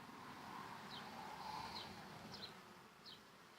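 Honey bees buzzing around the hives of an apiary in May, a soft, steady swarm hum with occasional faint higher chirps over it and no voices.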